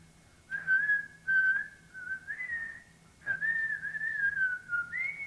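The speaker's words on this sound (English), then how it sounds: "Listen to that kid whistle." A seven-year-old child's whistled tune plays back from a dictation machine recording, a clear wavering melody in several sustained phrases separated by short pauses over a faint hum.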